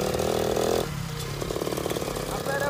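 A small 50cc motorcycle engine revs and accelerates with a buzzing, rising drone up close, the pitch shifting as throttle changes while someone talks nearby.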